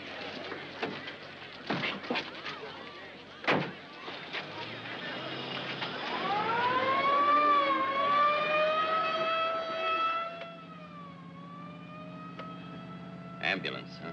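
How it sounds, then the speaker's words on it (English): An ambulance siren wails with a rising and falling tone, moderately loud and held for several seconds before easing off, with brief thumps and short bursts of talk around it. "Ambulance, huh?"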